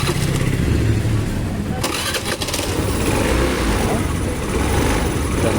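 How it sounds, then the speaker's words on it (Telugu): A Hero Pleasure scooter engine cranks and starts, with a sharp burst of activity near the two-second mark, then runs steadily and loudly through the rest of the clip. "వెహికల్ అయితే స్టార్ట్ అవుతుంది."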